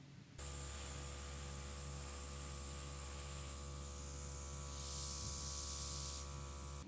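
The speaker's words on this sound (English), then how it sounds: "spray it slightly with the blue paint" Blue paint hisses from an airbrush onto nails through a lace stencil, a steady close spray over a constant electrical hum with no talking.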